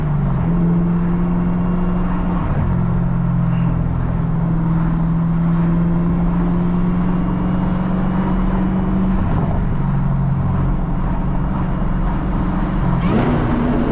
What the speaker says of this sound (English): Ooh, great downshift right there.